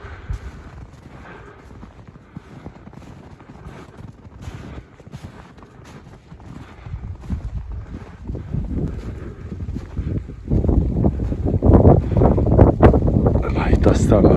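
Wind rushes across an open snowy meadow on a Pilis hiking trail, blowing snow. A moderate steady rumble swells into louder, harsher gusts toward the end.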